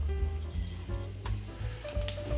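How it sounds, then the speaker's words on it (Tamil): Fennel seeds and fenugreek crackle and sizzle in hot oil as tempering for a fish curry, a close, continuous frying hiss with small pops. "மீன் குழம்புக்கு சோம்பு வெந்தயம் போட்டு தளிச்சிக்கலாம்"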